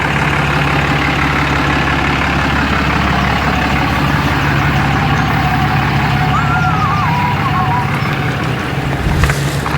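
A Dodge truck towing a fifth-wheel caravan idles close by in a tight delivery spot, a loud steady diesel rumble with a faint beep in the middle.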